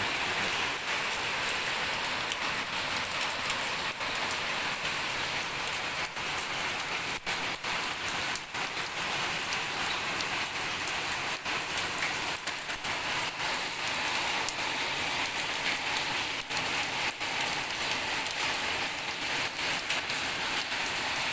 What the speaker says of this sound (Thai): ก็จะมีเม็ดฝนมาลง